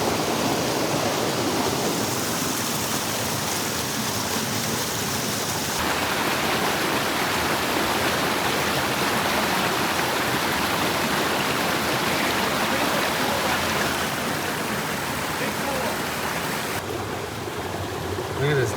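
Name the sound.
mountain creek flowing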